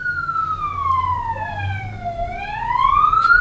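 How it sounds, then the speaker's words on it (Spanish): A wailing ambulance siren sweeps down and back up in pitch over a few seconds, fairly near and loud, with low traffic rumble beneath and no talking. "¿Es una ambulancia?"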